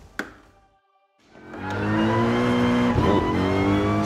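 A race car in Gran Turismo Sport, a brief click and near silence before the engine swells into a loud, sustained high rev that holds steady to the end.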